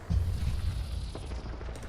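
A dense burst of gunfire in Apex Legends, a rapid rattle of shots over a low rumble, fairly loud and steady.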